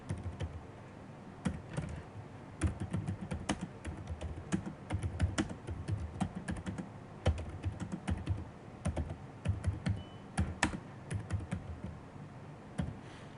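Fast, uneven typing on a computer keyboard fills the whole stretch, crisp close key clicks in quick bursts with short pauses, fairly quiet and with no speech.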